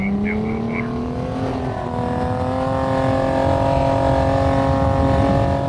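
A car engine drones steadily while driving on a beach in Half-Life 2, a smooth continuous hum that rises slightly in pitch and loudness as it goes, heard alone and fairly close.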